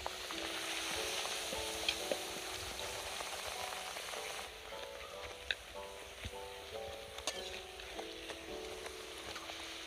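Mango luchi, puffed breads made from dough kneaded with ripe Himsagar mango pulp and no water, deep-frying in hot oil, giving a soft steady sizzle with a few faint clicks and no talking.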